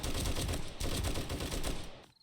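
Sustained rapid gunfire in the survival game 7 Days To Die blasts loud and dense for about two seconds, dropping out briefly near the end before a final burst.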